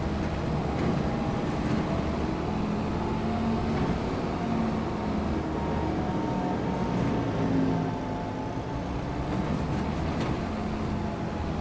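A small tractor engine in Farming Simulator 25 on the Rettenbach map, a steady low droning hum that runs continuously and evenly at moderate level with no talk.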